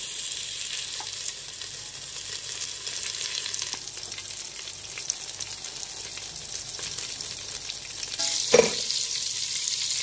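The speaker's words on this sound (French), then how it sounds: "Je mets le beurre et je laisse fondre." Butter melts in a pan as rice pilaf is started, giving a steady, close frying hiss and sizzle that runs throughout, with a brief sharper crackle near the end.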